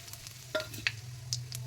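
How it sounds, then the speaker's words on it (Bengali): Nigella seeds, cinnamon and bay leaf frying in a little oil in a kadai, a low steady sizzle with a few sharp crackles and pops close by. "কড়াইতে আর অল্প একটু তেল দিয়ে দেবো ফোড়ন, কালো জিরে আর দালচিনি আর তেজপাতা।"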